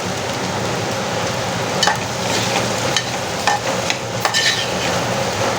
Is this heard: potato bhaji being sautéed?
yes